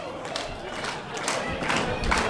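An independent wrestling arena crowd cheers and claps, a dense swell of voices and scattered hand claps with occasional thuds, growing slightly louder toward the end.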